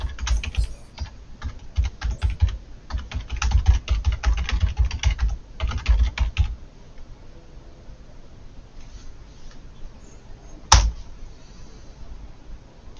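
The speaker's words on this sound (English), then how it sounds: "I'm just typing a message to you about what you find." Someone types a message on a computer keyboard in rapid bursts of clicking keystrokes, then pauses, a lone sharp key tap sounding near the end.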